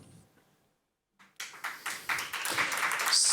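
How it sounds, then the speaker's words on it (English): A small crowd at a music industry summit during Reeperbahn Festival breaks into applause after a short hush, the clapping swelling quickly and holding steady, fairly close and filling the room. "Small round of applause."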